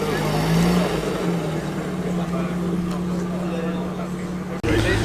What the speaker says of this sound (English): Very purposeful sounding Corvette Z06 rolling in now.